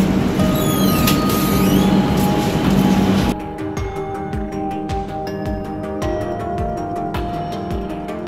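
At Vandalur station a train stands still while a loud rumble of machinery and crowd noise cuts off suddenly. Quieter carriage creaks and a repeated rhythmic clicking follow.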